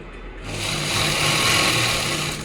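A sewing machine runs steadily, stitching a salwar waistband seam with a half-inch margin; the close, even whirr builds and holds for a couple of seconds without talk.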